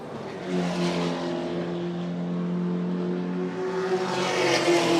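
Race car engines drone with a steady tonal whine, shifting pitch slightly as the cars brake into turn 3, heard at moderate distance with crowd-like wash behind.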